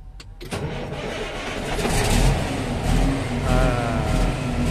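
A Western Star truck engine cranks and catches, then settles into a deep, loud idle with swelling revs, heard up close with no talking.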